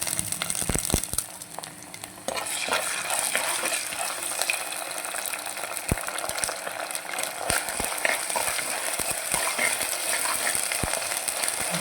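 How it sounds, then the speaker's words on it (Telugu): Ginger garlic paste, two tablespoons, fries in hot oil for a fish and okra stew, giving a steady dense sizzle with a few sharp clicks and stirring knocks throughout, close and alone. "ఇది మంచిగా ఆయిల్లో ఫ్రై అవ్వాలి"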